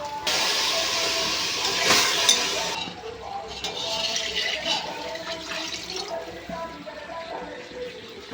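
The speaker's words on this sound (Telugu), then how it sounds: "అలా వాటర్ యాడ్ చేసేస్తాం" Water splashes and hisses as it is poured into a pot of rice for meal maker biryani for a few seconds, then settles into softer bubbling and trickling noises.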